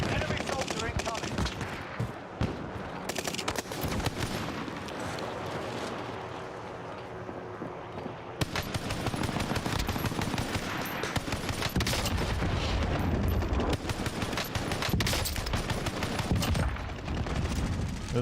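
Automatic gunfire in the video game Warzone, with loud, sustained bursts that rattle on for many seconds. One short dip in the middle breaks the run before the heavy fire starts up again, blending into a thick wall of shots.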